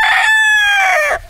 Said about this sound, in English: Thank you, Mr. Rooster.